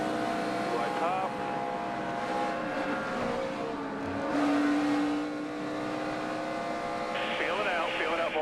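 A NASCAR stock car's engine roars steadily from onboard David Reagan's car at the 2009 Kobalt Tools 500, droning loud throughout with a shift in pitch near the end, while a commentator talks over it.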